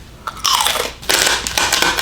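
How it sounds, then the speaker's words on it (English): Loud, close crunching as someone bites into the crispy skin of pork belly, two sharp crackling bites followed by brittle chewing. "You guys, listen to this crunch."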